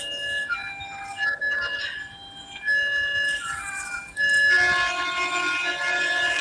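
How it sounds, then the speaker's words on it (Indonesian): A train runs along a rail line right beside a house, its rumble and horn blasts carrying loudly and close for several seconds, with no talk over it. "Oh, ada kereta. Rumahmu deket rel kereta."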